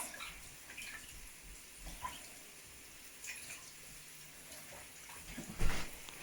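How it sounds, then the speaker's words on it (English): Hands being washed under a running kitchen tap, a steady low wash of water with a few splashes and a louder gush near the end, no voices. "Wash my hands."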